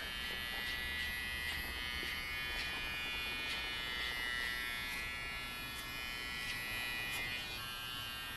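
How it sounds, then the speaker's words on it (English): Electric hair clippers shaving stubble during a low mid taper haircut, a steady high buzzing hum with faint periodic swells as the blades pass over hair, close and unbroken, with no one speaking. "Make sure to get rid of all the stubble. You always wanna shave everything out."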